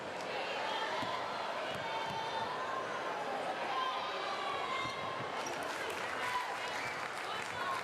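Crowd in a high school gym applauding both girls' basketball teams, a steady wash of clapping mixed with squeaking sneakers and ball bounces on the court, with voices talking over it.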